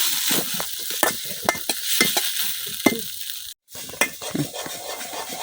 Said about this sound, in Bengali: পেঁয়াজের সাথে আদা রসুনটাও আমি কিছুক্ষণ ভাজা নিচ্ছি